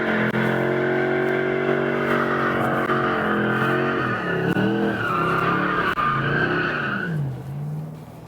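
A brand-new Z28 does burnout donuts, its tires screeching continuously over a revving, wavering engine that rises and falls, loud and close, before the squeal drops away near the end.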